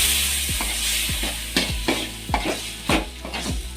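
Ivy gourd (tondekai) frying with ground masala in a pan, a steady sizzle broken by repeated scraping stirs at a regular rhythm, close and moderately loud with no talking.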